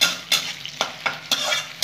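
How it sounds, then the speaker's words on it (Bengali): Onions fry in a pan for a Bengali green-tomato and tengra fish dish. A steady sizzle runs underneath while a spatula stirs, making several sharp scraping taps at an uneven rhythm, close and clear. "ভালো করে পেঁয়াজটা ভেজে নেবো।"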